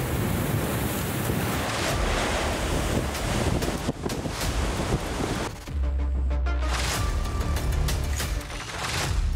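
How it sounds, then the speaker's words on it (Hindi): Heavy ocean surf pounds the coast during a powerful cyclone, a loud continuous roar of crashing waves churned by strong wind buffeting the microphone, with no voices. "लहरों के शोर से सहमे राज्य।"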